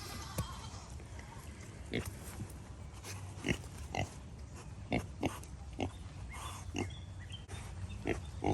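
Pigs on a farm grunt and oink in short, irregular bursts close by, with some snuffling and movement sounds between the calls.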